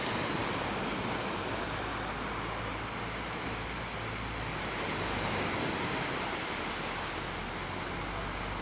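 Surf washing steadily onto an island beach at Koh Samet, Thailand, a continuous broadband rush that holds an even level without any talking.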